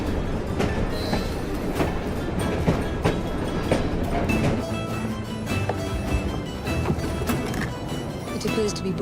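A moving train in the video game Assassin's Creed Syndicate gives a steady, dense rumble with clattering wheel noise throughout, while a person talks over it.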